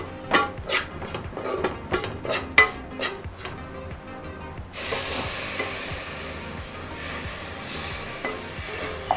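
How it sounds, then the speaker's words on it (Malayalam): Water poured into frying masala for a beef liver curry sets off a loud, steady sizzle that swells suddenly partway through, preceded by a run of sharp clinks and scrapes of a utensil against the pan, with no talking. "നമുക്ക് ഇച്ചിരി വെള്ളം ഒഴിച്ചു കൊടുക്കാം അതിനകത്തേക്ക്."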